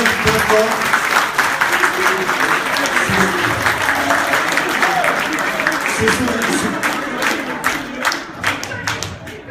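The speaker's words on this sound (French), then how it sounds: "On peut les applaudir très fort." Loud, sustained audience clapping for the sponsors at the opening ceremony of the Boulogne Horror Show horror festival, dense and steady throughout with some cheering mixed in.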